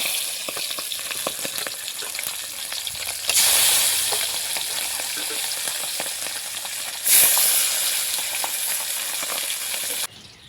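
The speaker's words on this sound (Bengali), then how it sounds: "মাছ ভাজা তেলেই বাকি মাছগুলোকে ভেজে নেব।" Pabda fish frying in hot oil, a steady loud sizzle with bursts that jump louder around 3 and 7 seconds, crackling continuously without speech until it cuts off near the end.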